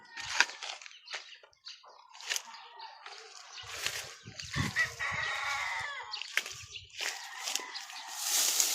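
Hens in a grassy nesting spot in the countryside cluck and call repeatedly, with a rooster crowing at moments, fairly close and scattered over a soft outdoor background.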